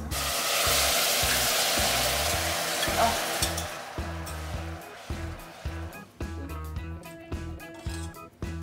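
Water poured into hot butter and sugar caramel, a loud hissing sizzle that surges at once then calms into bubbling with a rhythmic stirring or scraping pattern.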